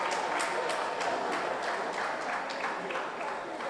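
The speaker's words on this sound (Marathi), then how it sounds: "आपण सगळ्यांनी टाळ्या वाजवून तिचं कौतुक करूया." An audience at a Tawde community gathering claps for Tanvi Tawde, producing a continuous, fairly quiet patter of many hands that holds steady for several seconds.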